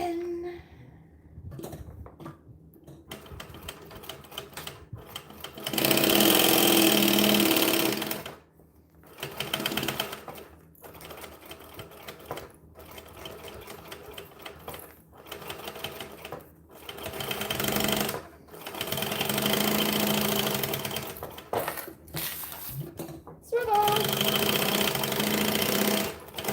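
A sewing machine stitches a bag in loud, rapid mechanical bursts of several seconds each, separated by short pauses and quieter handling noises.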